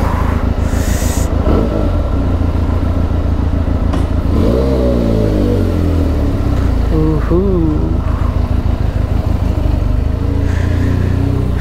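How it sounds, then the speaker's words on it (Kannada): A Benelli sports motorcycle rides off after a service, its engine rumbling loud and close and revving up and down in rising and falling sweeps, with speech over it. "ಸರ್ವಿಸ್ ಮುಗಿದ ಗಾಡಿ ಬರ್ತದೆ ನೋಡಿ."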